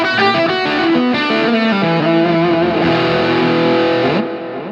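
Electric guitar with heavy distortion plays the opening lick of a song, a rapid run of bent, sliding notes descending over a droning low string, loud and close until the final note cuts off.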